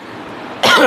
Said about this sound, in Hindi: मैं जो छींक रहा हूँ, खांस रहा हूँ